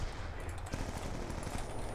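PDW submachine gun firing in Call of Duty: Black Ops 2, dense rapid automatic bursts that are loud and continuous, with game sounds mixed in.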